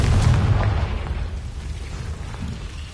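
A fiery Confringo spell blast in Hogwarts Legacy lands as a loud, close boom at the start, then fades into a low, rumbling tail.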